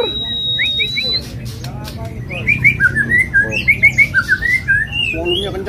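A caged kacor songbird sings loudly in a home setting, a long run of bright, rapid whistled phrases and squawks repeating close by over a low background hum.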